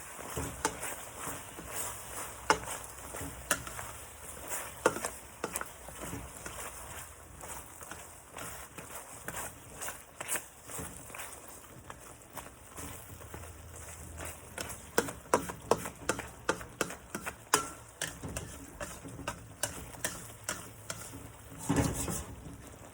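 A utensil stirs Pepsi chicken sizzling in a pan on a stovetop, with a steady hiss under repeated scraping and clinking taps against the pan that come in irregular clusters.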